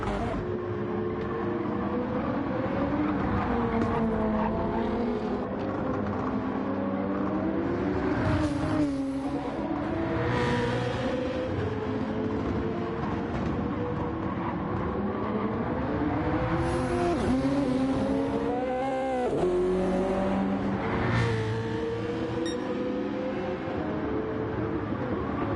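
Race car engines roar continuously in a sim racing game at Interlagos, one car in another's slipstream up the power straight, with rising and falling revs, gear shifts and cars passing close and loud throughout.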